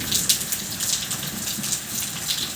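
Steady rain falls in Faridkot district, a continuous hissing wash with scattered splashes and patters close by, no voices over it.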